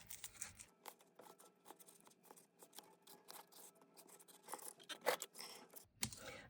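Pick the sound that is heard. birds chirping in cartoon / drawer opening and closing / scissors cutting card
scissors cutting card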